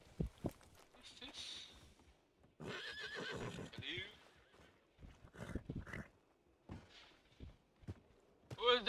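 A horse whinnies amid Red Dead Redemption 2 roleplay sound effects and clip-clopping hooves, with people talking over parts of it.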